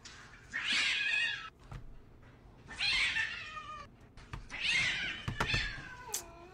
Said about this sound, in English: Just the cat being aggressive.